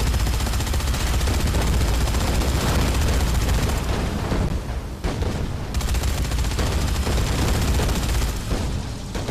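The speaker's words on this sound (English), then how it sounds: "Go on, fireworks, go." Fireworks in the video game Dead Rising 3 go off as a loud, dense barrage of rapid crackling bangs and booms, continuous with brief dips.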